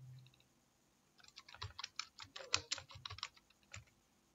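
Quick bursts of typing on a computer keyboard while entering spreadsheet data, a cluster of close, crisp key clicks lasting about two and a half seconds after a short quiet start.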